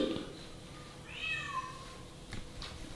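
A single drawn-out cat meow in a quiet room, followed by a couple of faint clicks.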